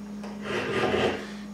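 A hand file rasps across the curved edge of an aluminum fidget spinner in one close, drawn-out stroke lasting about a second, followed by a brief scrape at the end.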